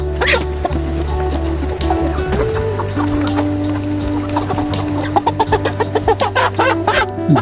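Chickens at a broiler farm cluck and squawk amid a steady low mechanical hum, with a burst of rapid, repeated loud clucks near the end.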